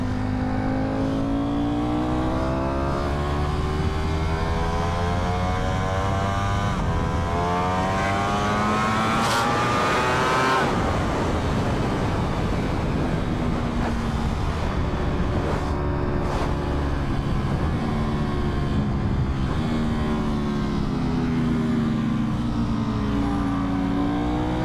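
Ducati V4R motorcycle engine running continuously while riding, climbing and falling in pitch through gear changes, with a strong rise and peak around the middle, loud and steady with wind noise throughout.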